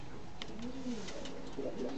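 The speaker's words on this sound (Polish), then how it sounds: "Proszę zobaczyć moje ptaki, jak się zachowują." Racing pigeons in a breeding loft coo softly, a few low rounded calls rising and falling close by against quiet room noise.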